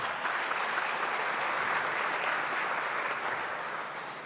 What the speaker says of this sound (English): Please, can you give her a round of applause?